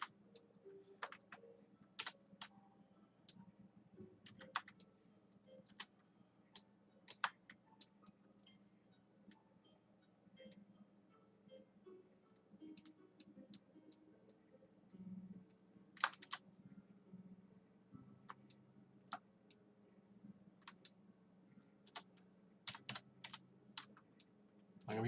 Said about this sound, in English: I'm going to be using a lot of shortcut keys for the most part